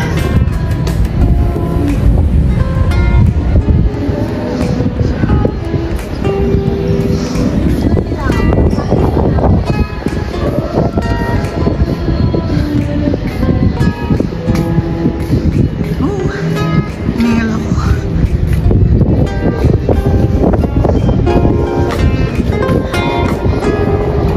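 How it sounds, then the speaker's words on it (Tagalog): Loud, blustery wind roars across the microphone throughout at a high 360-degree viewpoint in Barcelona, with people talking under the constant rush of air. "So, hasap ng hangin dito sa taas."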